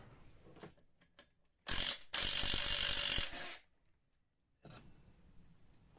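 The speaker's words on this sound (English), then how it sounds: "Just going to take all these nuts off and throw the new one on." A ratchet clicks rapidly in short bursts as sprocket nuts come off a Suzuki GSXR 600, with two loud close runs of ratcheting separated by quieter clicks and brief pauses.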